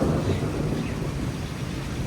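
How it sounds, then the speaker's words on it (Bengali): Steady rain falling through a thunderstorm, a dense continuous wash of drops with low rumbling underneath, fairly loud and unbroken, with no voices. "অনেক দিন পর একটু ভালো করে বৃষ্টি হলো"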